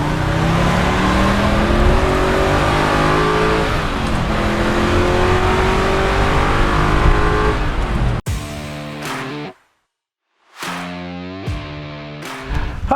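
The engine of a 1969 Chevelle SS revs and accelerates hard, a loud, rising and falling roar close by, then cuts to sharp individual blips with a brief silent gap between them.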